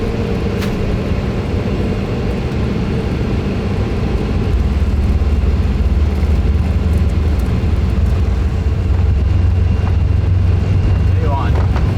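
Jet engines of the Orbis flying hospital airliner spooling to maximum takeoff power on the runway, a loud steady roar that swells over twelve seconds, with cockpit voices talking over it.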